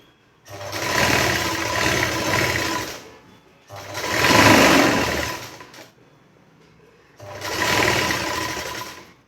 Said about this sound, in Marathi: अशी टीप मारून घ्यायची ही आपली पहिली टिप मारून घ्यायची फिटिंगची